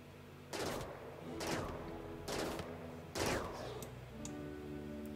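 Gunfire in the video game RimWorld as a colonist shoots an animal: four sharp, evenly spaced shots about a second apart, each a bright crack with a short decaying tail, at moderate level over a faint background hum.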